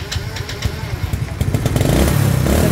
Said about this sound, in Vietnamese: rất là chắc và nổ máy luôn nha anh em